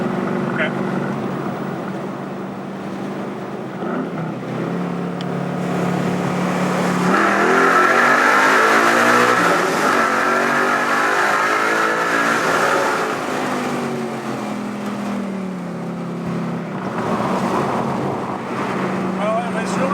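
Ford Mustang Boss 302 with the track key, driven through a tunnel, its V8 climbing hard in a long rising sweep of revs, loud and close, then easing back to a steady drone, with occasional talk inside the car.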